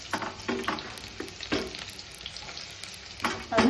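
Onions frying in a pan with soft, steady sizzling, broken by several brief clatters and stirring scrapes, close by and with no one talking.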